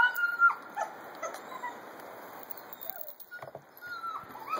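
A puppy in a dog yard gives thin, high whimpers and short yips, scattered and fairly close over a soft outdoor hiss.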